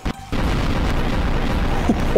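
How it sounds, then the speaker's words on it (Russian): A bomb going off in Garry's Mod in a sandbox co-op game, heard as a heavy booming explosion that rumbles on as a loud, sustained roar, with a couple of faint brief sounds near the end. "Вот это мега взрыв!"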